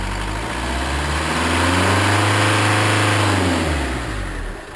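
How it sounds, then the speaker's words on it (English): A car engine idles briefly, then revs up in a smooth rising sweep, holds the higher speed and settles back down, close and clear with no voices. "after starting the engine, this is at idle"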